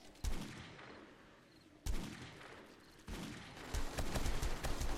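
A Desert Eagle pistol with a muzzle brake fires in 7 Days to Die, a few sharp, loud shots separated by pauses, then a quicker cluster of cracks near the end.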